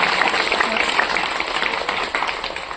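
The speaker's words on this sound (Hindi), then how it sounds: "लोग ताली बजाएं" A crowd at an ashram gathering claps together in a sustained, dense burst of applause that fills the space steadily for a few seconds, with voices mixed in.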